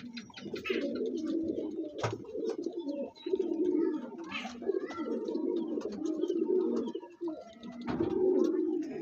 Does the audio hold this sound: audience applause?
no